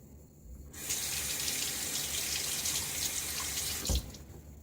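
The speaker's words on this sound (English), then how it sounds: "The lather rinses well from the head." A tap runs steadily for about three seconds while shaving lather is rinsed from the head of a Timeless 95 razor, a broadband rush that starts abruptly and stops with a small clunk.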